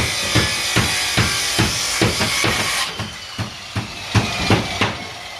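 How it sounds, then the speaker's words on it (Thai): Hammer pounding nails into wood during house building work, a run of sharp, evenly spaced blows close by, about a dozen strikes with a steady rhythm and a noisy background. "ตอกไปตอกมากซิมเมอร์"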